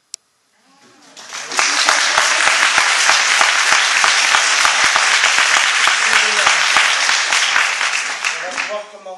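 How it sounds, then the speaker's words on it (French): A theatre audience at a vaudeville play applauds a character's entrance with loud, dense clapping that swells in after a single sharp click, holds steady for several seconds, then tapers off. "quand un personnage entre, genre moi, on l'applaudit."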